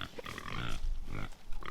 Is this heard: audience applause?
no